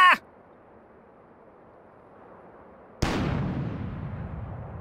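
A single booming cannon shot in The Book of Unwritten Tales bursts out partway through and rolls away in a long, fading rumble, after a short clatter at the very start and a near-silent gap.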